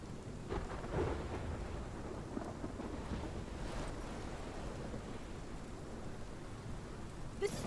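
Thunderstorm in Life Is Strange Remastered: steady heavy rain hiss throughout, with low rolling thunder swells and a sharp crack near the end, no voices.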